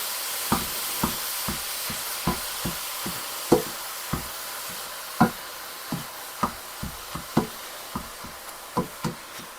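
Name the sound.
ground meat being broken up with a meat chopper while frying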